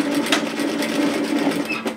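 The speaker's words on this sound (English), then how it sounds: "And then just stitch through to the next seam intersection." A sewing machine stitches through fabric for a reusable four-cup takeaway coffee holder bag, running at a steady, continuous hum with a few brief accents, close and alone.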